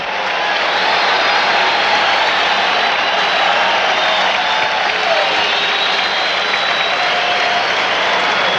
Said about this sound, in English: Fans applaud that play by Michael Jordan.